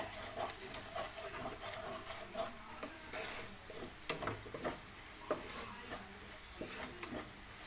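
Cumin powder and spices being mixed in a sizzling pan for chicken tikka masala, soft frying hiss under repeated scraping and tapping of a utensil against the pan, quiet and close, no talking.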